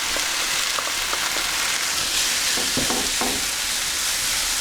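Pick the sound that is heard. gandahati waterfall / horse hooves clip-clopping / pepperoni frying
pepperoni frying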